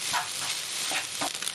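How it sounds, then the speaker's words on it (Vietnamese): Cooked rice stir-fried in a wok over high heat for salted-fish fried rice, a continuous close sizzle broken by a few scraping stirs, with no voices. "Cơm mình sẽ chiên ở lửa lớn luôn, và nó sẽ không có cháy."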